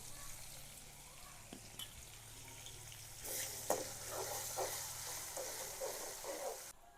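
Asafoetida, garlic, ginger and chilli hit hot oil with a steady crackling sizzle that swells louder about halfway through, joined by soft stirring scrapes, for Kathiyawadi garlic potato bhungala.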